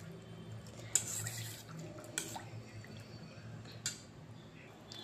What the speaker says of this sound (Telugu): ఇది సరిపడినంత వాటర్ కూడా పోసుకోవాలి.